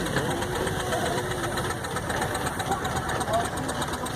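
A vintage steam engine runs at a steam and vintage rally, a steady close chugging, knocking mechanical rumble under outdoor crowd noise and scattered voices.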